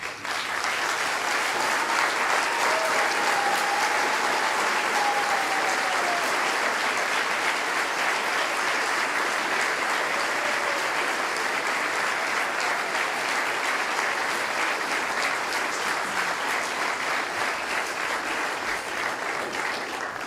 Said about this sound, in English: I'd like for you to stand to your feet and give them a round of applause, please.